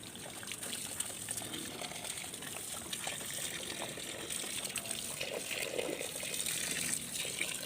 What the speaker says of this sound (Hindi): सबसे पहले पौधों पे पानी देते हैं